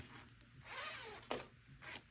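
A separating zipper for a crossbody bag project is pulled apart in one quick, close rasping zip lasting about a second, with a short click as the halves come free and a fainter scrape after.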